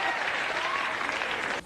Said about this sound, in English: People cheer now